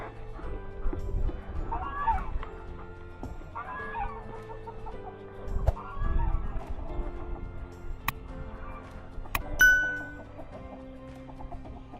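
Hens cluck and murmur softly throughout while feeding, with occasional louder squawks, near the listener over a low steady background hum.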